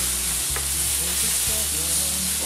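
Chopped onion fries in a pan for a spiced lamb kidney dish, a continuous close sizzle with soft stirring scrapes, with no talking.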